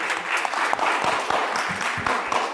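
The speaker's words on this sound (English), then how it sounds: "Let's give him a round of applause." A workshop audience at a climate justice summer school claps in a brief, steady round of applause, dense and moderately loud throughout the short burst.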